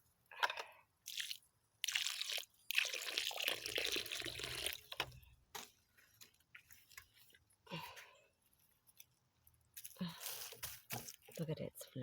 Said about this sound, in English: Oh, and I'm just going to water it